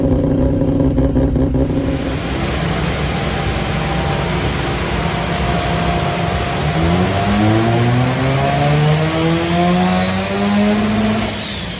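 A Mazda RX-8 fitted with a turbocharged 13B bridgeport rotary engine drives along, its loud, steady drone rising in pitch as it accelerates through the gears, heard from inside the car.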